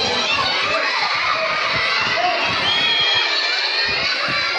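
A crowd of children shouts and squeals loudly and continuously at a vacation Bible school, a dense, unbroken wall of excited voices filling the room.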